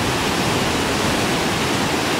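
The Kern River in April rushes with a dense, steady roar of fast-flowing water that stays loud and unbroken, with no voices over it.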